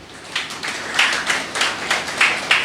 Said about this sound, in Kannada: ನಂಬಿಕೆಯಿಂದ ಆರಾಧನೆ ಮಾಡಿದವರು ಎಲ್ಲರೂ ಕೂಡ ಜೋರಾಗಿ ನಮ್ಮ ದೇವರಿಗೆ ಚಪ್ಪಾಳೆ ತಟ್ಟಿ